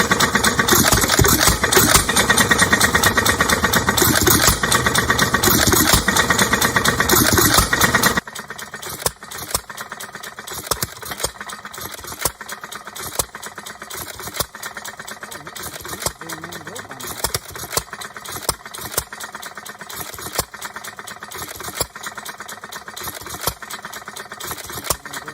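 An old stationary engine with a belt pulley, once belted to grind or shell corn, runs loudly at first and then settles into a steady idle of sharp, regularly spaced firing beats while someone talks nearby.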